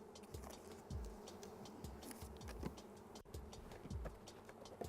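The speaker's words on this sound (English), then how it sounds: "Now the bees here will find their way in, they'll cluster around the queen." Honey bees buzz and drone steadily around a hive being installed from a package, with individual insects swooping close and passing by in brief louder whirs, no voices.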